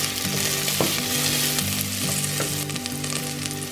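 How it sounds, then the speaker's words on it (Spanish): Celery fries in a pan over medium heat with a loud, steady sizzle and crackle, close up, while low tones of background music play underneath. "Ahora voy a agregar el apio y lo vamos a freír por 1 minuto más o menos."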